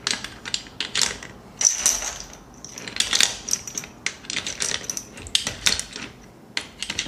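Rounds are pressed into an X91 drum magazine, producing close, bright metallic clicks, rattles and ratcheting in an irregular run, with no voices.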